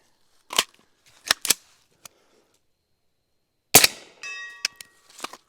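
A Cobalt Kinetics .300 Blackout rifle fires a few sharp, separated shots, then a quicker cluster of close, loud reports with brief ringing between them, outdoors and without talk.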